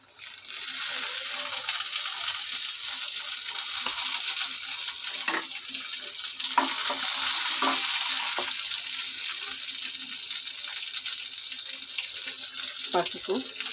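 Curry leaves fry in a pan for a cucumber and egg curry, making a steady hiss with occasional louder crackles and spatters throughout, close by and without talk.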